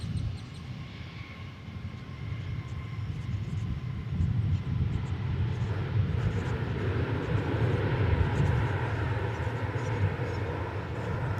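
Airbus A321 jet departing at DFW Airport, a steady low engine roar that builds slightly and holds, heard from a distance outdoors.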